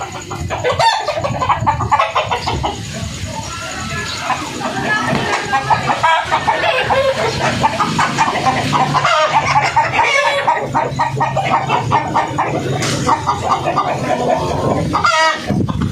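Darag native chicken hen clucking steadily and close, with other fowl calling and a rooster crowing in a busy farmyard, while someone talks over the birds throughout.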